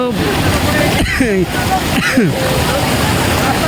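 River water from the Raimangal rushing through a broken embankment into a village, a loud continuous roar of flowing water with voices talking over it.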